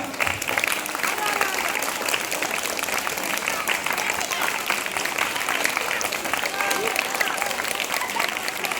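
Sustained, dense applause from a crowd at an event honouring teachers, steady and loud throughout with no break.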